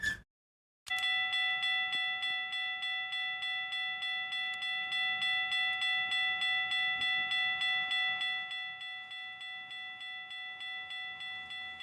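A railway crossing in the Canadian Crossing Simulator video game activates after a brief silence: rapid, evenly repeating electronic bell dings ring loud and steady, easing slightly softer near the end.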